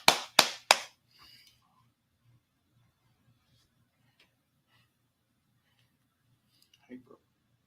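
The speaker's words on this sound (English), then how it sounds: "And with that, we're going to clap it up." Three sharp claps at the start of a religious law class in San Antonio, followed by near silence with faint room noise and a brief voice at the end.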